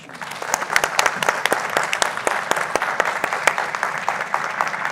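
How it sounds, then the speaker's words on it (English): A small audience at a Latin cooking presentation claps warmly, with individual sharp claps standing out clearly over a lighter steady patter throughout. "let's give you a round of applause"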